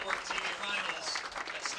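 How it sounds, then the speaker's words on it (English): Audience applause at the 2016 PWBA St. Petersburg-Clearwater Open bowling stepladder finals, a steady wash of clapping that runs the whole way beneath an announcer's voice. "How about a big round of applause?"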